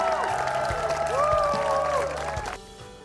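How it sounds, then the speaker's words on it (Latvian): Parents at a school event applauding and cheering for a teacher, a dense, loud wash of clapping and crowd noise with a voice on top, fading off at the end. "Un vētrainas vecāku ovācijas paņem skolotāja Jāna."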